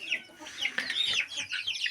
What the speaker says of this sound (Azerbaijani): Təkcə toyuq balları var.